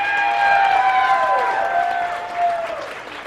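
A radio morning show studio audience applauds, the steady clapping overlaid by a bright, descending whistle-like tone effect that slides down and fades near the end.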